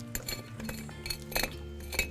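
Pieces of black opal rock clink together like glass during mining, a series of bright, light taps and chinks at close range, irregularly spaced over a low background hum.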